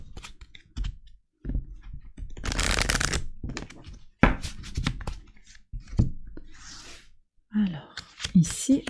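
Oracle cards being shuffled by hand in several bursts of riffling and flicking, with pauses and soft handling between them and a voice speaking lightly at times.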